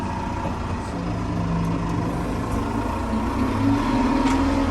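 A TR5110 tractor working a field during cotton-field preparation drones steadily and loudly, its engine tone shifting slightly as it runs in ninth gear, with no talk over it.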